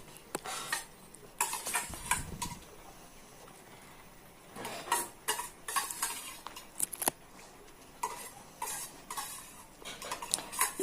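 A spoon stirs prawn and drumstick curry in a metal pan, making scraping clinks and knocks in irregular bursts with pauses between. There is a faint sizzle underneath, and no one talks.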